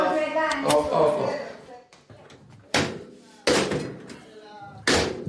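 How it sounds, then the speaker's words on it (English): A door slams shut indoors several times in a row, three sharp, loud bangs spaced about a second apart, with a voice speaking before and between them. "I had to close the door"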